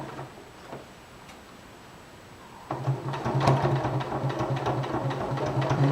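A sewing machine stitches a tower placket close to the fabric edge: after a quiet start with a few soft clicks, the motor kicks in around the midpoint and runs in a steady rapid rattling hum until the end, close and alone.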